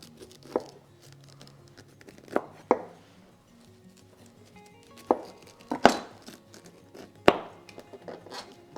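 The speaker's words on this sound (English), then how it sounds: "So you just go around the pineapple, cutting out those little notches." A knife cuts notches around a pineapple, producing scattered crisp chopping and tearing sounds, several sharp cuts spaced irregularly and close by, with quiet gaps between.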